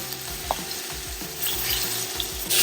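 Duck breast pan-fries with its skin crisping, a constant close sizzle and crackle with occasional pops and light scraping in the pan, no talking.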